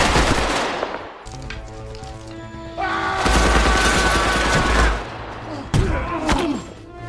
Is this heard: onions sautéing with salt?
no